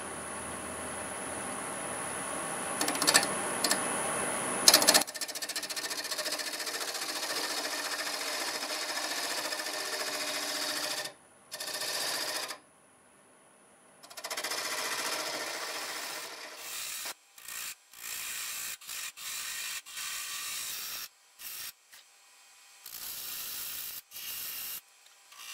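A wood lathe spins a mimosa wood vase at higher speed while a tool rasps against it, a steady scraping whir that breaks into bursts and pauses with short silent gaps.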